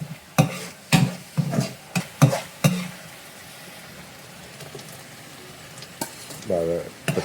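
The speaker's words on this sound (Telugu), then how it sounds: "తర్వాత గార్లిక్ జింజర్ పేస్ట్, ఇది కూడా పచ్చివాసన పోయే వరకు బాగా రోస్ట్ చేయండి" Garlic ginger paste frying in hot oil, with a steady low sizzle under several sharp scraping stirs in the first few seconds and a few more clatters near the end; one brief voice near the end.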